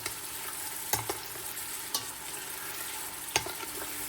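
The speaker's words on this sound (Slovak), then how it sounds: "A cibuľu som nechal zarestovať do sklovika." Chopped onion sautéing in a pot until translucent, a steady soft frying hiss with a few sharp utensil knocks and scrapes, moderately quiet and close.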